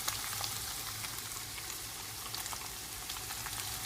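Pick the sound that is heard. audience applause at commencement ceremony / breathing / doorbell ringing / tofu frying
tofu frying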